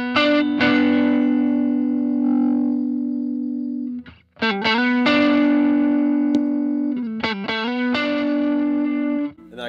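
Sustained electric guitar notes through a compressor pedal with a smooth, evenly squeezed volume, a short gap midway, then more held notes and quick plucked phrases, all played alone.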